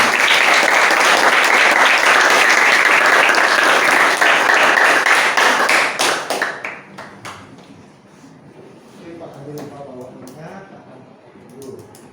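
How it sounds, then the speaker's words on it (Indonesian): An audience bursts into loud, sustained applause for a speaker at a teacher-training session, with dense clapping that fades out after about six seconds into quiet room sound and faint murmuring. "Berikan aplaus untuk Cik Ina."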